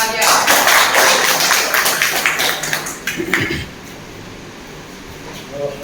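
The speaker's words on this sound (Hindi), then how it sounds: "जोरदार तालियां" An audience claps at a company's first anniversary event, a fairly loud burst of scattered clapping that thins out after a few seconds, with some background voices underneath.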